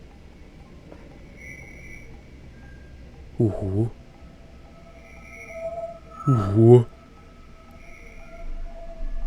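A recorded space signal plays back at full volume in the game Voices of the Void, a faint, steady eerie tonal hum with sustained pitched lines, interrupted twice by a man's brief murmurs.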